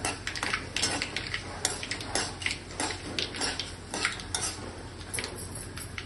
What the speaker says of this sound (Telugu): ఎండుమిరపకాయలు ఇలా వేసి కొంచెం మాడిపోకుండా ఇలా వేయించుకోవాలన్నమాట.